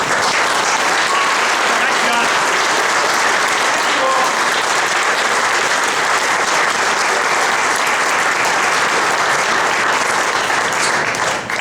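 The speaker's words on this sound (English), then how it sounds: "one last round of applause," An audience at a political event in a Schuylkill County restaurant applauds continuously, a dense, steady wash of clapping that holds at the same loud level throughout.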